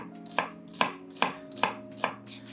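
A knife slicing onions on a cutting board, five evenly spaced crisp chops about every 0.4 seconds, close and clear, with no talk.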